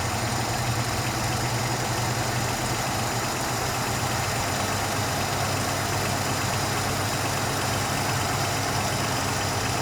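A Ford Capri Mk I 3000 GT XLR engine idles steadily during carburettor mixture adjustment, a continuous close rumble with a loud broadband hiss that stays level throughout, with no audible change in rhythm.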